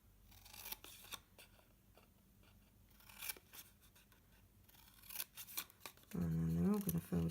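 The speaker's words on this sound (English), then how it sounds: "then we're just going to cut up" Scissors snip through cardstock while cutting slits and notches for a handmade Santa gift box, a series of short crisp cuts with soft handling rustle between, followed by a louder voiced burst near the end.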